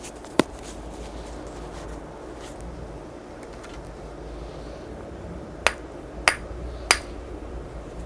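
A rough flint stone is struck to knock flakes off it. The result is a few sharp, bright clicks: one near the start and a tight cluster of three toward the end, with quiet pauses in between and no talking.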